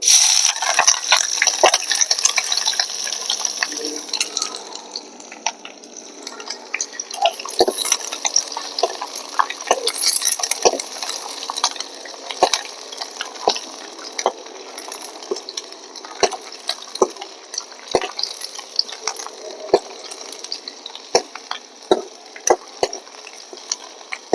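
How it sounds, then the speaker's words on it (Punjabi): Bay leaf, onion and green chili sizzle in hot oil for rice, a continuous bright hiss broken by frequent sharp clicks and scrapes of stirring against the pan. "ਤੇਲ ਗਰਮ ਹੋ ਗਿਆ ਤੇ ਹੁਣ ਆਪਾਂ ਤੇਜ ਪੱਤਾ ਪਾਵਾਂਗੇ ਹੁਣ ਗੰਢਾ ਤੇ ਹਰੀ ਮਿਰਚ ਇਹ ਪਾਵਾਂਗੇ"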